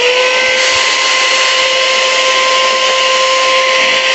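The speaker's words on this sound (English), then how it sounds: "just use a little portable vacuum here" A small portable vacuum cleaner runs loud and close, cleaning the foam filter of an aquarium air pump, giving a steady high whine with constant tones and no speech.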